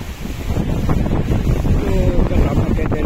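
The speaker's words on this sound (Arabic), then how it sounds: "كاين ريح جهدة جهدة ريح جهدة غتأثر شوية على الفيديو" Strong wind blows steadily and loudly across the microphone beside a river in the Oued Ifrane valley after thunderstorms, a continuous roaring buffet with no voices.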